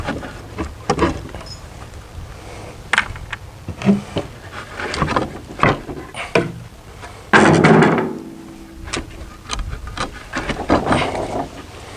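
Wooden boards on a vehicle gate, already cut with a jigsaw, are wrenched and pried off, giving a series of irregular knocks, cracks and scraping thuds close by, with one louder burst of splintering around the middle.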